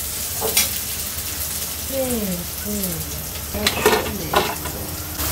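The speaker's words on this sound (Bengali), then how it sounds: "আম্মু হলো পেটার মশলা কষাই ফেলছে।" Spices for fish belly sautéing in a pan, a loud continuous sizzle with scraping stirs and utensil clatter, and brief voices or sounds in between.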